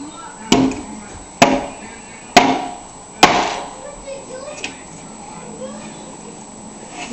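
Four sharp, loud hammer strikes ring out at an uneven pace while something is demolished, each blow a distinct bang, followed by faint scattered knocks and quiet background.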